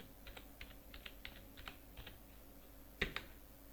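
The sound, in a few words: typing on computer keyboard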